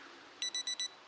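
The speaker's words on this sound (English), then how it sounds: "Stop, please, stop beeping." Four evenly spaced electronic alarm beeps in Project Zomboid, sharp and high-pitched, rising over a faint background hiss, each short burst separated by brief gaps.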